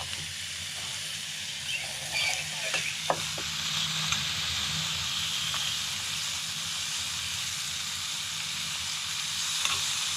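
Steak sizzles in a hot pan on a small portable camping stove outdoors, a steady broadband hiss with a few brief clicks and scrapes, close and constant throughout.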